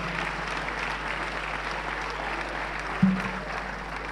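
A church congregation applauds in acclamation during a worship service, steady, fairly distant crowd clapping with a low constant hum underneath and one brief louder bump partway through.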